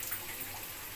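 Water poured into simmering chicken kofta gravy, two glasses' worth, giving a steady close splashing wash across the whole moment with no voices.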